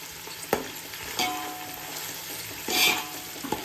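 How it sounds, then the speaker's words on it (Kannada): Onions with a pinch of salt fry steadily toward brown for a spicy Chennai-style mutton biryani, with a few sharp spatula knocks and stirring scrapes over a continuous close sizzle and no talking. "ಇವಾಗ ಇದು ಫುಲ್ಲು ಬ್ರೌನ್ ಆಗೋವರೆಗೂ ಫ್ರೈ ಮಾಡಬೇಕು."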